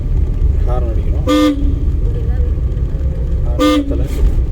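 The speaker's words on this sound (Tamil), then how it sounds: "ஹார்ன் அடிக்கணும்." A car horn gives two short, sharp toots a couple of seconds apart inside a driving school car, over a steady engine rumble and road noise.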